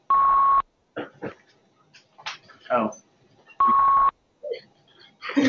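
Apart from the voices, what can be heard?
device beeping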